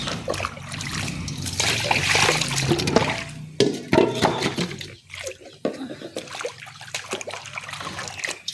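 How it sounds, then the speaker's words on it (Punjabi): White clothes being rinsed by hand in clean water: irregular splashing, sloshing and dripping, louder in the first half, then quieter trickles and wet handling sounds, with no talking. "ਚਿੱਟੇ ਨਾ ਇਸ ਤਰੀਕੇ ਨਾਲ ਧੋਣੇ ਆ ਸਮਾਰ ਕੇ ਸਾਫ਼ ਪਾਣੀ ਵਿੱਚ ਕੱਢ ਕੇ"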